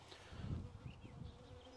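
Honey bees buzzing close by at an open Layens beehive, worked without smoke, a soft continuous drone with a few brief higher whines passing through.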